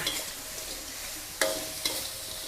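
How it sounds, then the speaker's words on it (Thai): Yellowstripe scad fish stir-fried over high heat in a pan, a constant dense sizzle with a couple of sharp scraping clacks from the spatula, close and steady, with no talking. "ก็เอาปลาค่ะลงไป คั่วเลยค่ะ"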